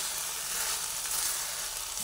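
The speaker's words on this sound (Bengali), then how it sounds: "আবার ভালোভাবে নাড়াচাড়া করে করে ভেজে নিচ্ছি।" Drumstick flowers sizzle steadily in a pan for a sweetened chorchori curry, a continuous close hiss with faint scraping from being stirred, no voices.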